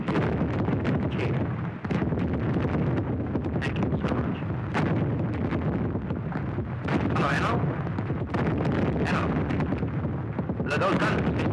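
Naval guns fire in a series of loud, sharp booms at irregular intervals, with rumbling noise between the blasts.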